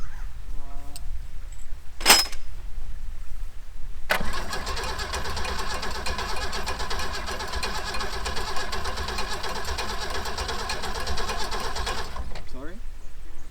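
Land Rover Series 1 engine cranking with a brief clatter, then catching and running with a rough, steady mid-pitched rumble for several seconds, close and loud, with voices around it.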